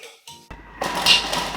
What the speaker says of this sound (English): Chopping my shallots for 3 seconds at speed 5.